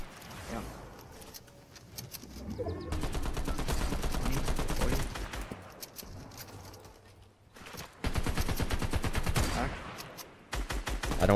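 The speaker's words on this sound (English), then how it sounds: "Don't get sniped though, don't get sniped though, Dev." Rapid video-game gunfire with bursts of automatic fire and sharper single sniper-style shots, loud and sustained across the clip with brief lulls, mixed with game effects and faint voices.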